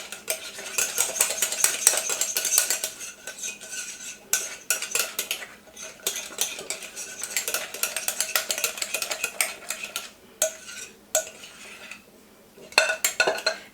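Cake batter with a teaspoon of vanilla being stirred using a Swedish dough hook, a steady run of close scraping and clinking against the bowl that goes on for several seconds with brief gaps.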